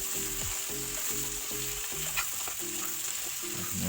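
Chicken cooked with ground sesame frying in a pan, a continuous hiss of sizzling oil beneath soft background music, with faint stirring sounds.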